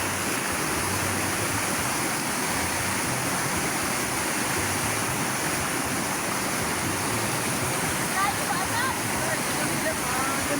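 River rapids at Kaeng Phanom Sechamphon roar in a steady, dense rush of broadband water noise throughout, loud and continuous with no breaks.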